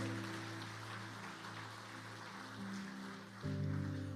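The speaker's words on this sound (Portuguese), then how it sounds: "Aplauda Jesus, aleluia." A church congregation claps during a worship service, a soft wash of applause blended beneath sustained keyboard chords that shift to a fuller, louder chord near the end.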